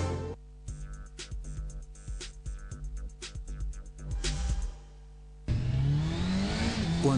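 A motorcycle engine revs up in a road-safety announcement, building to a loud surging roar after a stretch of rhythmic tones and beats.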